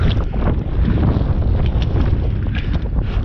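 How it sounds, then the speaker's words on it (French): Strong wind on a mountain summit in the Vercors buffets the microphone in loud, continuous gusts, roaring and rumbling with no voices. "Et vous entendez le vent qu'il y a."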